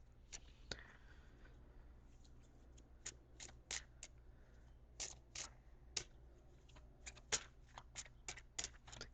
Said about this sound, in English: So I'm also going to shuffle for an angel card.